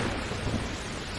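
Heavy rain and rumbling thunder in an anime storm scene, a dense, steady wash of downpour with low rolling rumble beneath it, loud and continuous with no talking.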